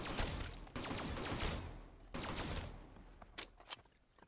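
Haymaker shotgun fired in Black Ops 3 Zombies on Nacht der Untoten, bursts of rapid, heavy automatic shots in two strong volleys, then a few scattered quieter shots as it trails off.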